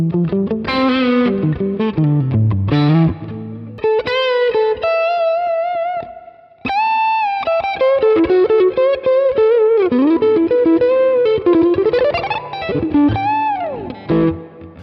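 Super Telecaster electric guitar played through split-coil pickups with distortion and effects, ringing chords and sustained bending lead notes up close, loud and continuous without speech.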